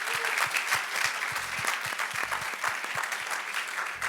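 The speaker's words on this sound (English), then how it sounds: "give God a hand of applause" A church congregation breaks into dense, steady applause after a testimony, with rhythmic thumps punctuating the continuous clapping until it fades slightly at the end.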